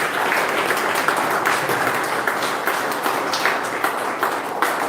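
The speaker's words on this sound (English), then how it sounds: "So let us all give him a good round of applause." A steady round of audience applause after a doctoral defence, many hands clapping continuously at an even level throughout.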